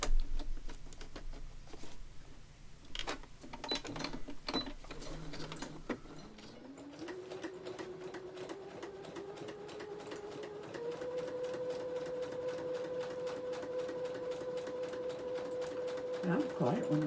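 A sewing machine stitches around the edge of a page cut from an old book, first in quick rattling bursts, then settling into a long, steady mechanical whir up close.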